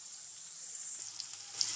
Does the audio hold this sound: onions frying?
yes